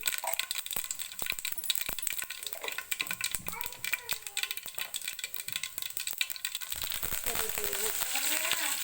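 Mustard seeds popping and crackling in hot oil for tempering in a village-style Kannada home kitchen, a dense run of sharp irregular pops and sizzle over the whole stretch, with a voice speaking partway through.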